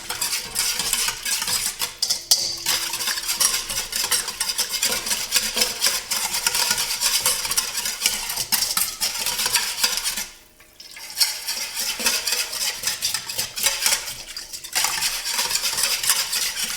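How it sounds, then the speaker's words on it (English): A whisk beats stock into an egg-lemon avgolemono sauce with egg yolks, dill and lemon zest, giving a steady, fast metallic scraping against the bowl that pauses briefly partway through. "add some stock and keep whisking"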